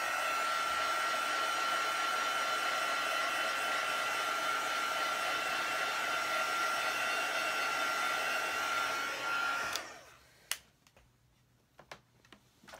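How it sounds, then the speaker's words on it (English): A two-setting heat tool blows steadily and loudly while drying an embossed card, then cuts off, leaving a few sharp clicks and taps. "So now I'm going to dry it again. And this is our heat tool."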